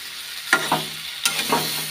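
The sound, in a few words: stirring soybean, potato and peas in pan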